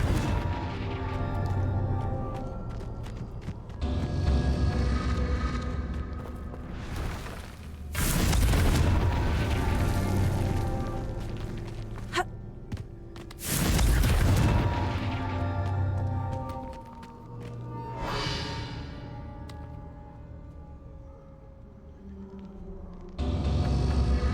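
Confringo fire-spell explosions in a video game: a string of heavy booming blasts, about five of them spread several seconds apart, each swelling loud and then rumbling away between hits.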